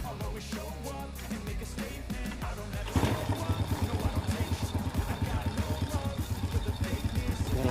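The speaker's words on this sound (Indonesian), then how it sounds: "Loh, mesinnya langsung langsam Kang Bro." A Honda Supra X 100cc motorcycle, just serviced for low power, fires up after a few seconds of shuffling and clatter, then settles into a steady, close, rhythmically pulsing idle.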